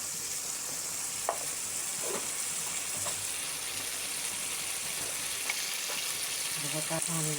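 Turmeric, chili and coriander powder fry in a pan for a spiced fish dish. There is a steady, close sizzle throughout, broken by occasional scraping clicks from stirring.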